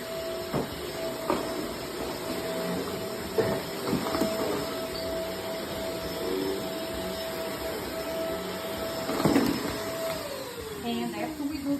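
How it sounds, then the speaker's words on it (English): A vacuum cleaner deep cleans a rug with a steady whining hum and hiss, bumps and knocks from the work scattered over it, and the motor note falls away near the end. "First, we do the vacuum."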